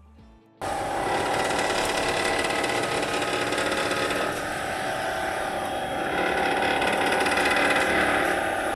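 A Swardman Electra battery-powered cylinder mower runs with a steady, loud whirring drone and a grinding, scraping edge from its spindle, continuous and close for about eight seconds after a sudden start.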